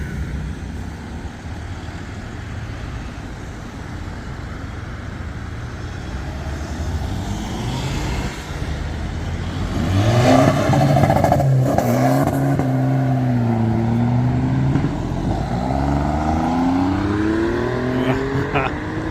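A modified car at a car show revs hard and spins its wheels, engine note climbing and wavering loudly in the second half, with crowd voices and shouts around it.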